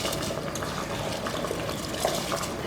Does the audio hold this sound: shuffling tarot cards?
no